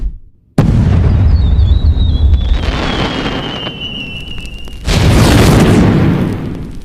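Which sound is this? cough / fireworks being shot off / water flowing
fireworks being shot off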